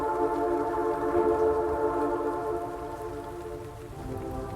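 Steady rain falls in a soft, continuous hiss, faint and even throughout with a low rumbling undertone and no voices.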